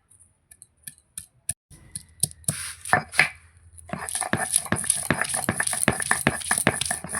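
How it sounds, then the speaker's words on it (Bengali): Garlic is pounded into a paste with a series of sharp, sparse knocks at first. These become a rapid run of close, crisp impacts over a low scraping grind, with no talking. "আর এখানে আছে রসুন, বেটে নেব।"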